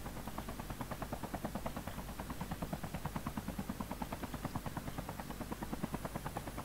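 Helicopter rotor in the mobile shooter Call of Duty Mobile, a steady rapid thudding chop that pulses evenly and stays loud throughout with no talk over it.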